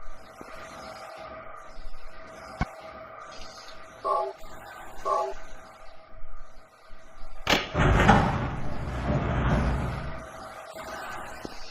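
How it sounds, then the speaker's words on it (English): A door opening and a ticking clock in the horror video game Silent Hill, with a few faint tonal clicks followed by a loud, sudden creaking burst that trails off over ambient game sound. "the sound of a door opening, perhaps, and a clock"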